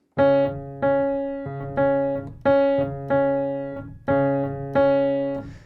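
Piano chords played in a syncopated bossa nova pattern, repeating steadily across two bars, clear and alone with no voices.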